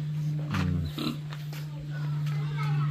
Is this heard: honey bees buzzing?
no